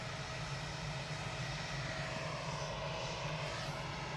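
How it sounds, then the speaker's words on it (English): A Jet2 airliner arriving from Fuerteventura touches down at Manchester Airport, its engines giving a steady, distant roar that holds evenly throughout without speech. "Jet 2 from Forteventura, just touching down in the background."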